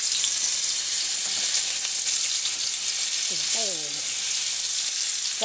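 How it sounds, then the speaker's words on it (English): Scallops frying in high smoke point cooking oil on a Fry 50 produce a loud, constant, close sizzle, with a few brief faint voice-like tones rising above it midway. "I'm going to fry up the rest of them."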